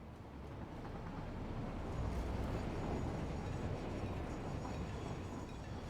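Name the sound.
trains arriving at station in the video game Satisfactory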